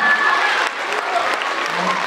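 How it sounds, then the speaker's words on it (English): Applause fills a school's Black History celebration after a student play, a steady, dense burst of clapping from the audience that carries on loudly throughout. "Round of applause."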